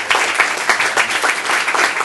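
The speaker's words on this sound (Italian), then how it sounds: "Un applauso a Don Antonio." An Italian audience applauds Don Antonio, a parish priest from Rione Sanità, with brisk, loud clapping of a modest crowd, individual claps distinct within a lively patter for about two seconds.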